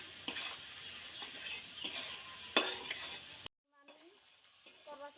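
Beef tripe fries with spice paste in a pan, giving a close, crackling sizzle broken by scraping stirs. The sizzle cuts off abruptly, then faint clinks and stirring follow.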